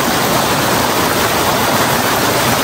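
Spring water gushes loudly and steadily from a pipe at a drinking-water source in Lamjung, a dense, unbroken rushing roar close to the outlet.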